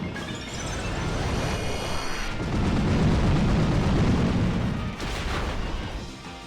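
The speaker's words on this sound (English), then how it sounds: "Wow, that was an explosion," A loud, rumbling explosion in the Pokémon Ultra Moon video game, with a broad blast that swells and holds for several seconds, then a second burst near the end.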